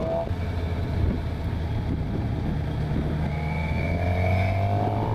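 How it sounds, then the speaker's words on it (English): Engine of a 2015 Suzuki GSX-R750 sport motorcycle growling steadily while being ridden, a continuous loud drone with a pitch that gradually rises near the end, heard close and on its own. "So right off the bat, I can already notice a difference in the sound. The engine sounds different."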